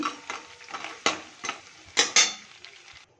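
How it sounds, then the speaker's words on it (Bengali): Pea lentil dumplings (bori) frying in oil in a wok, a soft sizzle under loud metal spatula scrapes and clanks against the pan, close and irregular. "বড়িগুলো বেশ লাল লাল করে ভেজে নিচ্ছি।"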